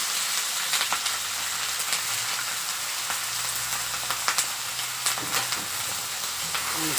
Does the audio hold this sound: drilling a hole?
no